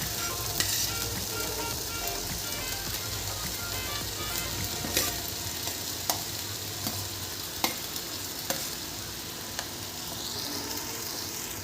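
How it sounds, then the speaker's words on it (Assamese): Onions frying in hot oil in a pan for chicken butter masala, a continuous close sizzle with occasional sharp clicks of a spoon stirring against the pan, no voices. "মই অকণমান ইয়াত গৰম হৈ অকণমান ভাজিম। মই পিঁয়াজখিনি দি দিছোঁ।"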